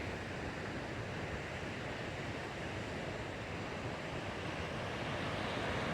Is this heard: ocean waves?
yes